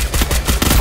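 Gunfire in a multiplayer shooter, a rapid burst of loud, close shots in quick rhythmic succession, heavy and booming, with no talk over it.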